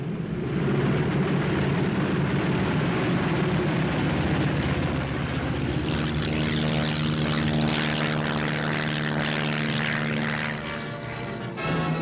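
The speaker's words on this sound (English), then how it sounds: "a first flight takes off in the sunrise, others following at regular intervals" WWII propeller aircraft taking off at sunrise from an Aleutian airfield, a loud steady engine roar that swells midway into a throbbing, droning tone as the plane climbs, continuous throughout.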